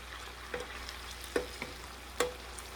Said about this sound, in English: give them a little bit of a stir, a little bit of a turnover